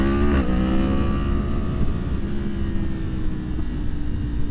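A 2023 Yamaha MT-10 with its AIS removed revs hard at first, then the engine note falls away with light crackles from the exhaust. The sound is close and fades out over a few seconds.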